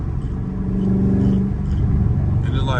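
A Dodge Scat Pack car engine in the rain gives a steady, heavy low rumble close up with a faint rising tone near the end, and a muffled voice is faintly present.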